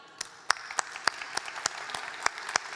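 A handful of scattered claps from a small audience at a Somali Week Festival launch event, sparse and uneven sharp hand claps rather than full applause, fairly faint in a quiet room.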